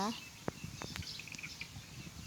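Young Muscovy ducklings on a farm give several faint, high peeps in an irregular scatter over a low, quiet background.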